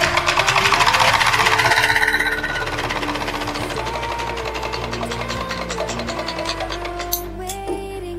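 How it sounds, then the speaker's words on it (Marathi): A sewing machine stitches the shoulder seam of a plain katori blouse with a rapid, loud mechanical whir. It slows into a lighter, steady hum and then stops near the end. "शोल्डर जोडताना आपण डबल टिपा द्यायच्या."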